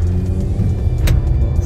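A powerful car accelerates, and its engine gives a loud, steady, close-up rumble that holds without a break throughout.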